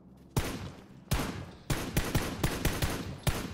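Automatic rifle hip fire in the video game PUBG comes in about seven sharp, loud bursts of rapid shots with short gaps between them.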